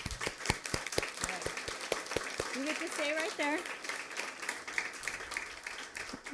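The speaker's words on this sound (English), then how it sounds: "Let's give him a round of applause." Audience members at a school district board meeting give a round of applause, starting with a few sharp separate claps that swell into scattered steady clapping while someone speaks briefly over it.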